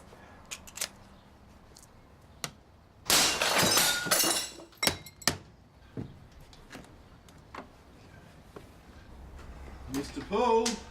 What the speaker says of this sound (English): You can break the door down.